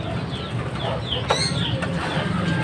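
Pigeons arriving at a home loft amid steady bird chatter, with a brief burst of wing flapping near the middle over a constant background hum.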